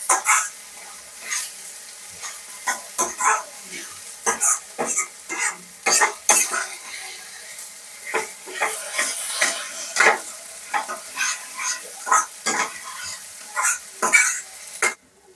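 Egg bhurji mixture frying and sizzling in a pan, with repeated scraping stirs and utensil clinks against the metal, close and fairly loud throughout.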